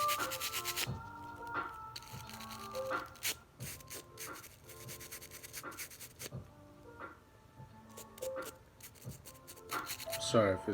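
A brush scrubs a Glock pistol's recoil spring in short, close, scratchy strokes with an irregular rhythm and small metallic clicks, while someone talks quietly over it.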